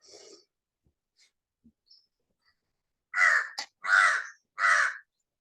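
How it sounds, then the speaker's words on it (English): A crow caws three times in a row, loud and close, after a few faint scattered sounds during an online gathering. "Crow wants to say something."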